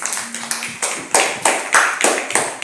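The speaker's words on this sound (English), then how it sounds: "Give yourselves a clap" A small group of students clapping in a classroom after a social studies lesson on continents and oceans, loud close claps in loose bursts roughly every third of a second, with no talk over them.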